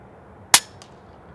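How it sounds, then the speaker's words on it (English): A single crisp shot from an RTI Prophet II PCP air rifle on an outdoor range, one sharp close crack with a quick faint echo afterward, otherwise near quiet. "But the gun shoots very accurately."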